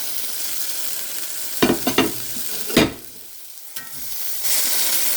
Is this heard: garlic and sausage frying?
yes